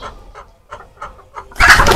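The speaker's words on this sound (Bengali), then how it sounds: "ধরছি একটা সুটাম দেহের মুরগি" Sonali chickens in a pigeon house give a run of short, rhythmic clucks, then a sudden loud, flustered squawk at the end of the clip.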